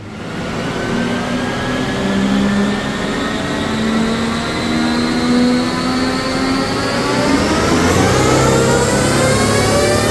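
Used twin-turbo V12 AMG engine running up on a dyno, a loud, steady drone that climbs smoothly in pitch through the whole pull as revs build, close and continuous with no talking.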